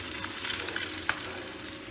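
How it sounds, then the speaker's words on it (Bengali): Pieces of rohu and catla fish fry in a small amount of oil in a pan, a close, steady sizzle and crackle with a few sharp pops, and no voices. "মাছ ভাজা হয়ে গেছে।"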